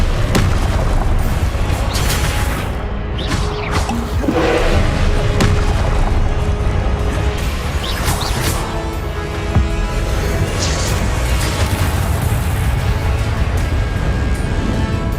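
Confringo fire-blast spells going off in the video game Hogwarts Legacy, a dense run of booming bursts and thuds over a constant loud mix of game effects and score, with no pauses.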